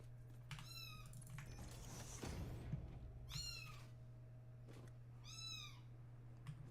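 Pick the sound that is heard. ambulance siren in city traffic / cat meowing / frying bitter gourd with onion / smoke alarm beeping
cat meowing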